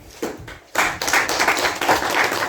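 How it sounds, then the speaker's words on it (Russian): An audience applauds certificate recipients at a student debate forum, a dense, steady wash of clapping that swells after a short lull and carries on loudly to the end. "я думаю, что ваши аплодисменты будут той наградой, которую они действительно заслуживают"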